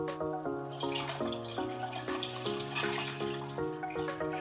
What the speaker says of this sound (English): So let me turn on the water.